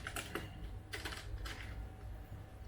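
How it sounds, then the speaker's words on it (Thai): Computer keyboard keys tapped in quick irregular bursts while entering an adb command to root a OnePlus 8 Pro phone, close and fairly quiet, with no speech. "แล้วก็จะพิมพ์คำสั่งว่า adb s i z e load"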